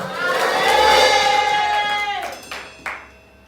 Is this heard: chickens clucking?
no